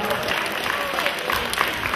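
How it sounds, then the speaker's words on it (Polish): An indoor crowd claps steadily at a Shinkyokushin karate championship award ceremony, a dense, even patter of applause that goes on throughout with no clear voice over it. "Brawa dla Pawła."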